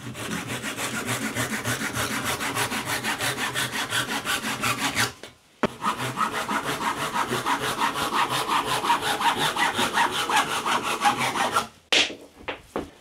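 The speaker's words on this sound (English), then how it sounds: "these bits stick out, so I'm just gonna come in with the saw" Hand saw trimming protruding wood pieces of a garden obelisk, with fast, steady back-and-forth rasping strokes that are close and loud, pausing briefly midway and near the end.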